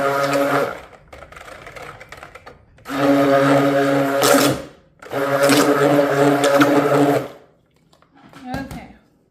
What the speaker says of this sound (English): So I'll put my blender back in for a minute.